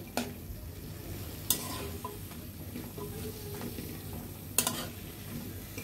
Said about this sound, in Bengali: এখন ভালোভাবে মশলাগুলো কষিয়ে নিতে হবে।